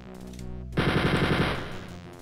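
Rapid automatic gunfire in the Wolfenstein 3D video game, a loud burst of evenly spaced shots lasting under a second, following a quieter game tone and then trailing off.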